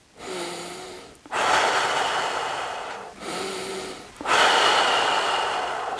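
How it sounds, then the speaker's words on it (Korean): A person demonstrates abdominal belly breathing with two slow, deep inhale-and-exhale cycles, close and fairly loud, each breath a long airy rush with brief pauses between and no talking. "우리가 가슴으로 숨 쉬는 것이 아니라 복식 호흡이라고 이야기하죠."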